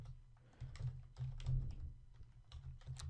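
Steady computer keyboard typing while code is written for a web development lesson on Ajax, close and fairly quiet, with continuous key clatter and a few louder bursts, no voices.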